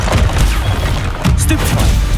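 A Confringo blasting spell explodes in the Hogwarts Legacy video game, making loud, close bursts of crashing impact over a dense rumbling game soundscape.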